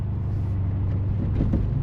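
Corvette engine running on its first drive in twenty years, a low steady rumble heard from inside the moving car with faint road noise.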